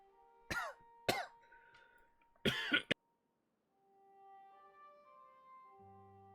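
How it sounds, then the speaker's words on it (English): A person coughs hard three times, two sharp separate coughs followed by a longer rougher burst, close up and alone, then quiet with faint background tones. "I didn't think you wanted to hear me cough my lungs out."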